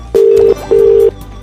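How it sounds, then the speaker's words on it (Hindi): A phone call drops and a disconnected tone plays: two loud, steady electronic beeps of equal length separated by a short gap. "फोन कट गया था"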